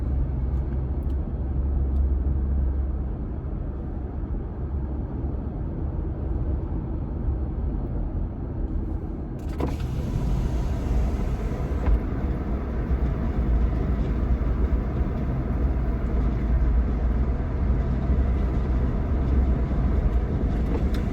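Steady low road rumble inside a Jeep Gladiator pickup cabin at 30 mph on new tires, with a sudden rise in hiss and wind noise partway through as a window goes down, continuous and fairly loud, no talking.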